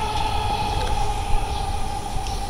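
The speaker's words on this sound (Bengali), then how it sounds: "এখানে মেট্রো রেল যাচ্ছে আর আমরা এখানে বসে আছি" A Dhaka metro rail train runs past in a steady electric hum with a sustained whine and low rumble, fairly close and unbroken.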